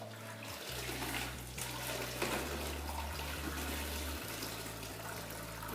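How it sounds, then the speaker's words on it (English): A tube mop is flushed out in the flushing tank side of a double bucket, making a continuous rush of churning, sloshing water that sounds close and fairly loud. "Flush that mop out in my flushing tank side."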